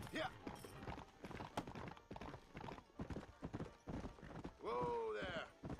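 Horse hooves clip-clopping in the video game Red Dead Redemption, a quick, steady patter of hoofbeats up close, with a neigh near the end and a person talking over the top.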